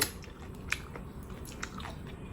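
Someone chews octopus dipped in sauce, with faint wet, squishy bites and a few soft crunches close to the mouth in a quiet outdoor setting. No talking is heard.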